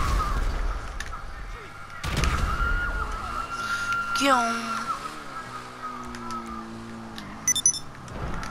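Gunfire in GTA V during a drive with a Negaski BF400, a sharp shot opening the stretch and a few quick cracks near the end, set against steady engine drone, a rising whine and scattered game noise.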